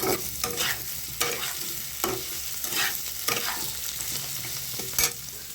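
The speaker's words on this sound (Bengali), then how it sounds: "তো এটা আমি দিয়ে দিচ্ছি, কাঁচা লঙ্কা দিয়ে দিচ্ছি, দিয়ে এটাকে আমি একটু নাড়াচাড়া করব।" Ginger, garlic and green chilies frying in a pan for a potato and rohu fish curry, stirred with a utensil in several distinct scraping strokes over a steady sizzle, close and fairly quiet, no talking.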